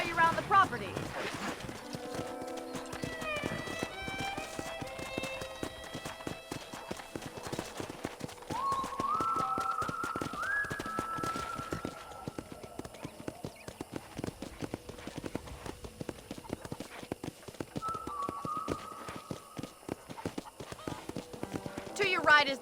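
Horse hooves clip-clop steadily as a rider trots along in Red Dead Redemption, a close rapid rhythmic patter running throughout under people talking.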